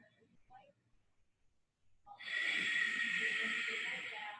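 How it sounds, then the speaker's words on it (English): A long, breathy ocean-like exhale through a sealed mouth during a power vinyasa yoga practice, a steady hissing rush lasting about two seconds after a quiet pause, close and fairly loud. "This is your Ujjayi breathing, and this breath will guide us throughout this practice."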